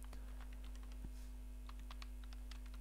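Quick, close keystrokes clatter on a computer keyboard as a web address is typed into a browser, with scattered clicks over a low steady electrical hum and no speech.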